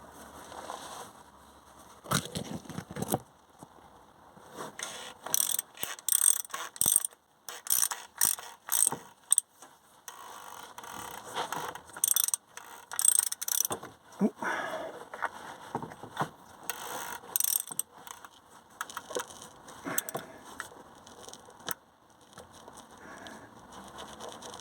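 A socket wrench ratchets in repeated bursts of quick clicking while working under a Vauxhall Astra K during an engine oil change. The close-up clicks come in uneven rhythms with short pauses, and no one talks.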